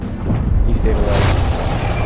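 A helicarrier and its Chimera reactor blow up in a video game, giving a sustained low rumbling boom that fills the whole stretch at close, loud level, with dull blasts rolling beneath faint speech.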